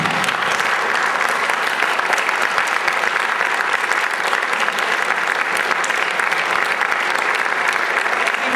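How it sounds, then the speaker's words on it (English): An audience applauds the inductees at a high school Hall of Fame ceremony, producing a dense, even rain of clapping from many hands that holds steady and unbroken for several seconds. "Give them a round of applause."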